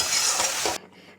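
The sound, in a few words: potatoes being sautéed for egg potato curry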